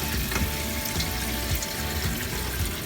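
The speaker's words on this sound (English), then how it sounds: "This is the new kitchen faucet." Water streams steadily from a newly installed kitchen faucet in an RV, a constant close hiss of flow with no voices.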